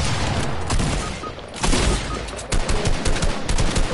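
Rocket launcher fire and explosions in the Fortnite video game, with a loud dense barrage of overlapping blasts and rapid gunfire, several heavy booms standing out near the middle and end.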